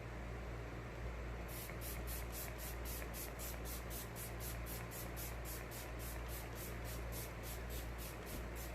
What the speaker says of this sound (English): Okay, I just love the mist on it.